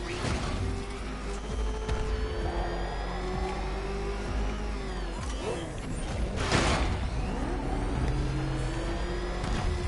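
Batmobile engine in a Batman video game, a continuous loud motor drone with shifting revs, mechanical creaks and a few crashing impacts layered on top, heard without speech.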